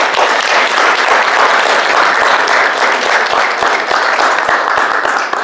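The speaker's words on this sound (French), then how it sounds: "Mesdames et messieurs, je vous demande d'applaudir ces candidats." A large assembled audience applauds newly elected candidates, loud sustained clapping from many hands that fills the space evenly for several seconds without a pause.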